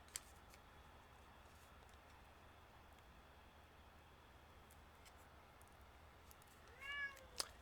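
A short, faint meow near the end of a quiet stretch, preceded by a soft snip and a few small ticks.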